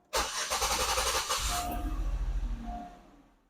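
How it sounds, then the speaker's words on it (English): A car engine cranks and fires up, with a loud starter whir that settles into a steady idle and then fades, heard close with no talking. "We're going to just turn the car on."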